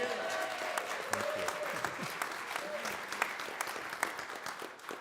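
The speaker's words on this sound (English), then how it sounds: "a round of applause for what he's doing for us all summer long" A crowd claps steadily in a sustained round of applause, dense and moderately loud, with a voice faintly audible underneath.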